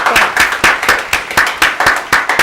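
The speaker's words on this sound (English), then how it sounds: "Let's give a big round of applause for Tracy Niielsen." Studio audience clapping for a United Way CEO guest on a local talk show, a close, loud run of regular claps with a steady rhythm, roughly eight to ten beats over a couple of seconds.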